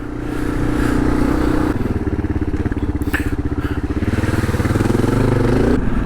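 Kawasaki KLR650 single-cylinder motorcycle on the road, a close, loud, steady engine thrum with rapid pulsing firing beats and rising revs, with light rattling from the bike.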